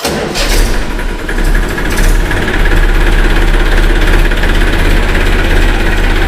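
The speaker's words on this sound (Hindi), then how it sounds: "तो भाई आप ट्रैक्टर की आवाज़ सुनिए" A Massey Ferguson 241 DI diesel tractor engine cranks and catches, then settles into a loud, steady, throbbing idle with a deep rumbling knock, close by.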